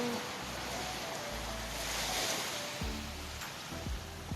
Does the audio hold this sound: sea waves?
yes